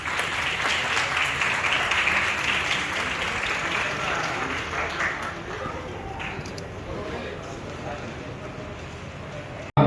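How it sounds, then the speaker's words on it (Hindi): Steady, loud audience applause at a student award ceremony held by Yamaha, sustained clapping from a large crowd that carries on evenly, tapering slightly near the end. "कृपया तालियां बजती रहनी चाहिए।"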